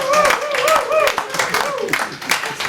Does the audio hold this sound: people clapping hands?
yes